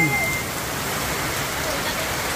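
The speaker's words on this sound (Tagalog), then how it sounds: "Sobrang lakas ng ulan." Heavy storm rain pours down in a steady, dense hiss of drops hitting surfaces, loud and unbroken throughout.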